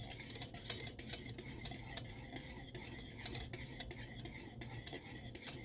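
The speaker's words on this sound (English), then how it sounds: "Keep stirring." A spoon stirs dairy-free pumpkin spice coffee creamer in a pot on the stove, making steady soft scraping and clinking with faint sizzling underneath, close and continuous with no talk.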